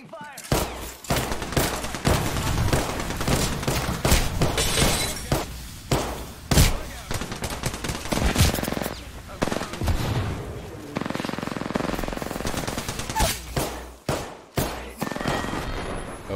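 Dense, rapid gunfire from a video game firefight rattles almost nonstop, with sharp bursts and impacts over a continuous loud bed, while players talk over it.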